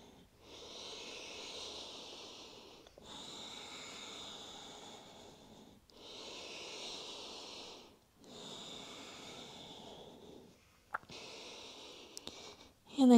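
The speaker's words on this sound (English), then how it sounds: "just breathe here" Slow, deep breaths during a seated hip-opening yoga stretch, five long airy exhalations at a steady unhurried rhythm, close and soft with brief quiet pauses between them.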